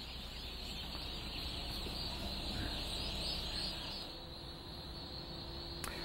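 Turkeys gobble and cluck faintly inside a large barn, scattered calls rising over a constant loud hum of ventilation fans.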